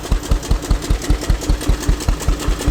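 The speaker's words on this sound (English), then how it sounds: "It's not too bad, nice and quiet with that tractor muffler on it." A 1920 International Harvester tractor engine fitted with a tractor muffler runs at a steady idle, its exhaust thumping in a fast, even rhythm of about five beats per second, close and fairly loud.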